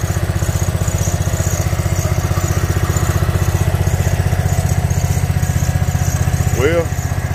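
A 16-year-old Snapper Pro lawnmower engine runs steadily nearby, a loud, rapid, even chugging pulse that continues throughout with a brief squeak near the end.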